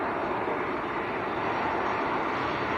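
Broad steady engine roar of a Ryanair jet, a Boeing 737 Max, at Leeds Bradford Airport, heard from a distance as an even, sustained rumble without voices.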